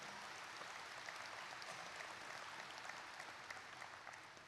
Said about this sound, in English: applaud them, they deserve it